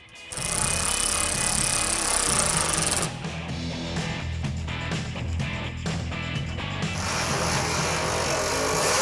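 A ratchet tightens the fender bolts on a Mopar supercar. Fast metallic clicking and whirring comes in close, dense bursts, with a brief drop in loudness partway through.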